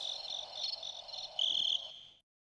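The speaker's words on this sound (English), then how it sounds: "Crickets. Delicious crickets." Crickets chirping in a dense, steady trill, bright and fairly close, with a louder burst near the end before it cuts off abruptly into silence.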